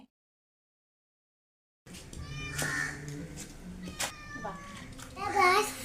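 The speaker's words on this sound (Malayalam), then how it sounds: "ഇവിടുന്ന് അടുത്ത് വന്നു കയറിയ ഒരു പൂച്ചയാണ്" After a brief silence, a stray cat meows several times nearby, mixed with people talking, ending in a louder drawn-out meow.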